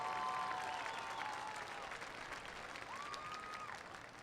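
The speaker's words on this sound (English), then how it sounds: "let's have a nice round of applause for the homecoming court and their escorts" A crowd at a 2016 Mount Carmel Area high school football homecoming applauds the homecoming court and their escorts, with steady, distant clapping and faint whistles through the whole stretch.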